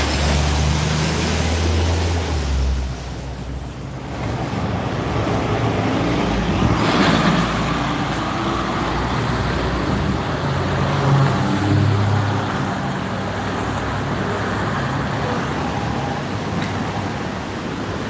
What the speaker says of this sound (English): I did not expect that Van Hool to come by. That was a Van Hool C2045.